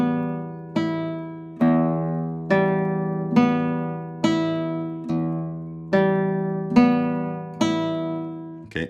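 Fingerpicked guitar plucked without preparing the notes: nine evenly spaced, ringing notes, each sharply attacked and decaying before the next, played alone with no talking.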